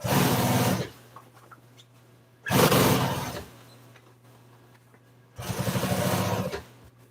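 An upholstery sewing machine top-stitching a folded Polaris seat cover runs in three loud close bursts of rapid stitching, separated by quieter pauses with a low steady hum.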